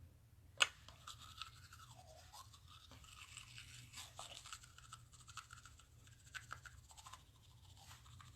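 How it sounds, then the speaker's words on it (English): Quiet close-up brushing of teeth with a bamboo toothbrush, steady soft scrubbing strokes with a faint click near the start, no talk. "bamboo and clay is what I use to brush my teeth with"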